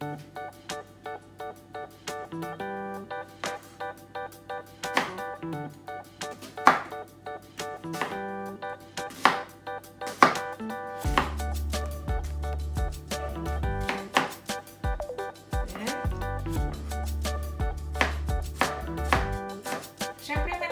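A knife chops onion on a cutting board for spaghetti in a home kitchen, with regular, close knocks that continue for about twenty seconds while a low hum rises underneath partway through.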